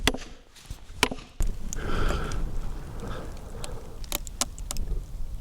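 Firewood being split with a driven wedge: sharp metallic strikes at the start, then a rough creaking, crackling groan as the wood gives way, followed by a few more clinks near the end.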